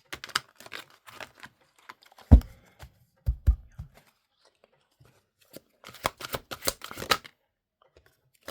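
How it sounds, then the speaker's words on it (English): Tarot cards being shuffled in quick, soft riffling bursts, close and fairly quiet, with a few dull taps and someone talking intermittently between them. "So I want to pull you 6 tarot cards."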